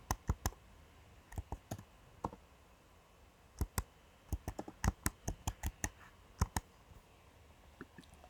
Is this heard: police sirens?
no